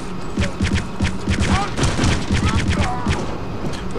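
Repeated bursts of gunfire in the video game Return to Castle Wolfenstein, rapid shots in clusters fired through tunnels, loud and dense with overlapping impacts throughout.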